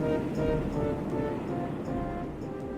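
Rolling sea surf and wind as a ship sails in the video game Die Siedler, a continuous washing roar with low rumble and faint creaks, steady throughout with no speech.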